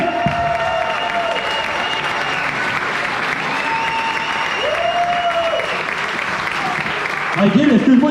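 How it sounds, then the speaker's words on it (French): Steady audience applause at a wrestling show fills the room for several seconds, a dense wash of clapping with a few tonal sounds over it and a brief swell near the end. "Une bonne main d'applaudissement, s'il vous plaît."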